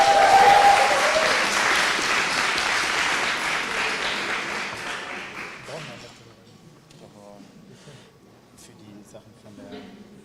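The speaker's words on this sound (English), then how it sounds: "please clap your hands for them where they're leaving now" Audience applause at an EdTech hackathon as presenters leave, loud dense clapping for about six seconds that then dies away to scattered claps, movement and faint voices.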